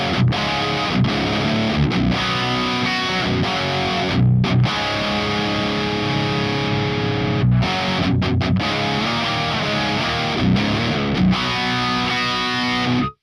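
Heavily distorted electric guitar through an STL Tonehub amp plugin plays chugging chords continuously, thick and loud, with short breaks between phrases.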